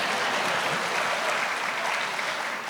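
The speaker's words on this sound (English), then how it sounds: "It's okay to clap now." A political event audience claps together, a dense, even wash of applause that holds steady throughout with no voices over it.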